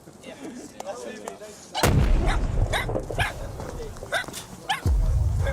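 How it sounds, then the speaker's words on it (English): A large explosion booms suddenly and loud in a combat zone, followed by a second heavy blast, with dogs barking and voices talking around it. "Suddenly, an explosion shatters the peace"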